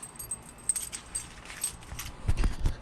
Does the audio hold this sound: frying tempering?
no